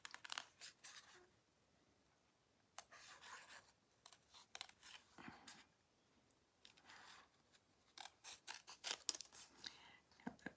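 Scissors snipping through patterned stamping paper in short, irregular bursts of crisp cuts and rustles, close but quiet, with gaps of near silence between them.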